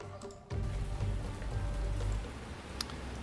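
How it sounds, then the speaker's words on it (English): Steady rain in the naval combat game War on the Sea, a broad even hiss that starts abruptly and fills the scene at moderate level, with a faint tick or two above it. "what we have going on here is a nice ugly rainy day again"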